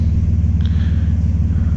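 Low, heavy rumble from a Nissan Stagea NM35's VQ25DET engine, running steadily and loud up close, with only a slight rise in revs over a short stretch.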